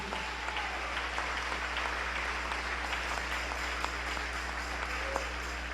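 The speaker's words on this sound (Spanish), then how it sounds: "Dale un aplauso al rey." A church congregation claps together in a steady, continuous round of applause during a sermon, even and moderately loud over a low background hum.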